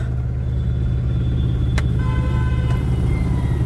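A steady, loud engine rumble and road noise continue throughout, as from inside a moving empty truck, with a couple of brief faint clicks.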